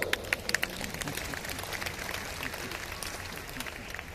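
An audience at an Ahilyadevi Holkar tercentenary birth anniversary ceremony applauds in a dense, steady wash of clapping, with a few sharp, louder claps standing out near the start before it settles into an even roar.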